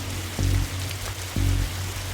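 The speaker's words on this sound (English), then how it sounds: "whatever standing in this rain stopped being fun for you" Steady rain falls in the spooky setting of the Darkside Detective video game, a continuous loud hiss with two short low thumps repeating about a second apart, and no voices.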